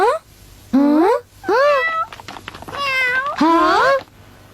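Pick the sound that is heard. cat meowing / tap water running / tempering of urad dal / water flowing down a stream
cat meowing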